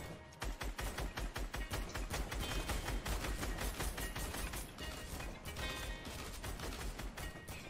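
Rapid bursts of gunfire in the video game Fortnite, dense repeated shots crackling in quick succession almost without pause, loud and close.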